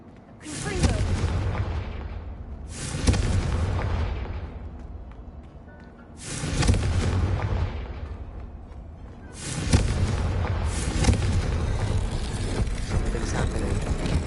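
Confringo fire spells in a Harry Potter video game set off four heavy booming explosions, each a loud blast followed by a rumbling decay, with a voice talking over them.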